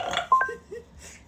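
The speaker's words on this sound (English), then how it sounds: "Make a burp noise." Google Assistant plays a burp sound effect, a short, close, croaky belch in a few quick bursts, with no talking over it.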